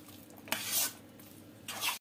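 Banana halwa mixture with milk and sugar stirred in a pan over a low flame, with quiet scraping and two soft swishing strokes of a spoon against the pan.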